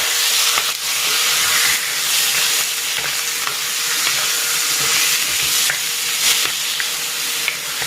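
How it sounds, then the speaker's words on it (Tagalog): Chicken sautés with onion in a hot pan for chicken tinola, giving a steady, dense sizzle with scattered stirring scrapes and pops throughout. "igisa ko na rin dito itong sibuyas. Ayan, ilalagay ko na dito itong chicken."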